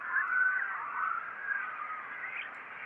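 Processed bird calls smeared into a continuous washy tone, with heavy echo and trailing repeats blurring the chirps together, no voices present.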